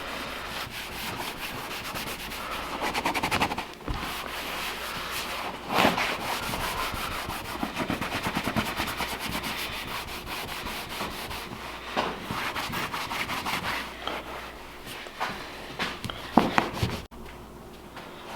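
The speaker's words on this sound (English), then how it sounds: "you will have to rub a little bit, fairly hard, but anything to get rid of just the extra dirt and grime on it" Steady hand rubbing scrubs dirt and grime off a kayak hull, a close, continuous scratchy friction with occasional harder strokes and small knocks.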